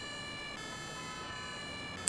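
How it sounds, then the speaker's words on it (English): An ambulance siren from the Emergency 5 video game with the Wuppertal mod, heard as a steady, continuous tone with strong harmonics that stays level through the clip, with no speech. "We are following this ambulance here as he's going to the call"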